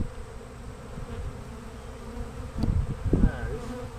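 Honeybee swarm humming steadily as it is dumped into a two-frame hive box, a continuous close buzz that swells briefly with a few louder bumps and knocks near the end.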